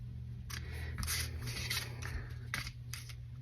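Scissors trim the ends in a few crisp snips, scattered over a few seconds against a steady low background hum.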